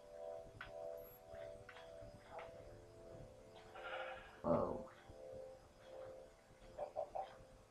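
Sheep bleating in a video game, with one short bleat standing out midway and a few fainter calls later, heard over low background game sounds.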